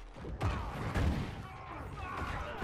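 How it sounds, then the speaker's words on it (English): Explosions and combat effects from the fantasy role-playing game Dragon Age Inquisition: two heavy, booming blasts about half a second apart, then a continuing clatter of battle noise and sound effects. The bursts are loud and near, with a dense rumbling low end. "Explosion! There we go."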